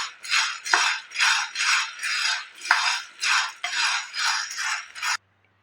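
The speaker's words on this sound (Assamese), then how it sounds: "কেৰাহীখনতে অকণমান এইদৰে লৰাই থাকিম।" Roasted chickpeas stirred in a kadai with the gas turned off, a steady run of about ten rhythmic metallic scrapes and rattles, close and clear, ending abruptly.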